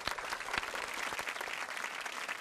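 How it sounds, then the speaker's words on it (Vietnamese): A studio audience on a Vietnamese dating show claps in quiet, steady applause with a few sharper individual claps, heard faintly and without talk. "Vỗ tay."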